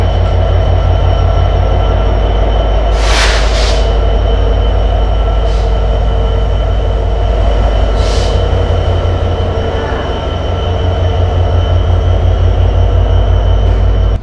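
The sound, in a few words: Banalata Express train departing Rajshahi railway station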